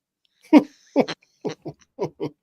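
Owls calling in woodland, a series of six or seven short hooting notes in irregular rhythm, moderately loud and near, with no talking over them.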